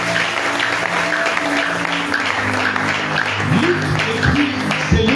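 A church congregation at a French-language sermon bursts into sustained applause and cheering, a dense steady wash of clapping with scattered voices rising through it for several seconds.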